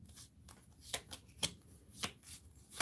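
A deck of cards in the tabletop game Warp's Edge: Viren Invasion is riffled and shuffled at close range in several quick crisp bursts, with no talk over it.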